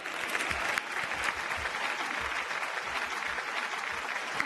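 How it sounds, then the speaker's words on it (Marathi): Steady, loud applause from a studio audience at a televised Marathi singing competition, continuous crowd clapping filling the whole stretch with no speech over it. "प्लीज एकदा जोरदार टाळ्या."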